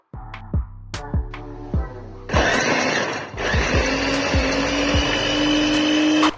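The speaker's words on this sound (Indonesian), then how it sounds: "lalu kita akan menghaluskannya menggunakan chopper" A food chopper grinds rawon spice paste with about 50 ml of water, starting with a few short loud pulses before settling into a continuous close whirring grind.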